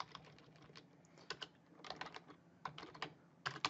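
Typing on a computer keyboard while writing Excel VBA macro code: quick irregular bursts of close, crisp key clicks with short pauses between them, and no talk.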